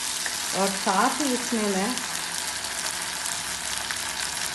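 Homemade tomato sauce stirred into vegetables frying in a pan, a steady loud sizzle running throughout while someone talks briefly near the start.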